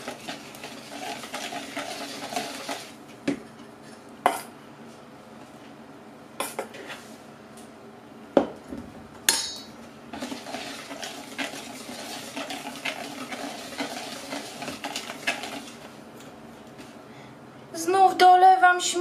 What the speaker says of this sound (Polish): Delikatnie mieszamy.